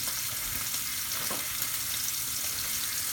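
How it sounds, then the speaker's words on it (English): Sous vide steaks searing in a cast iron pan give a loud, dense, continuous sizzle that stays even throughout, with no voices. "we're going to take them off of the cast iron in a minute after they've seared on both sides"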